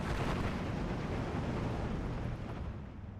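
Off-map artillery strike in Steel Division 2: a dense, rumbling barrage of explosions that roars steadily for about three seconds, then tapers off slightly, with no voices.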